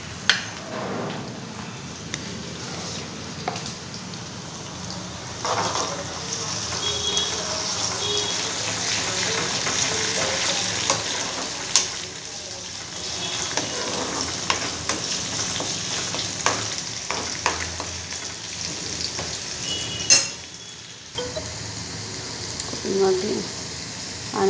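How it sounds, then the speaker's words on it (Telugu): Onions with ginger paste fry in a pan in a continuous crackling sizzle, with occasional stirring clatter and a brief utensil clink near the end, heard close and steady under someone speaking. "ఆనియన్స్ అయితే ఫ్రై అవుతుంది."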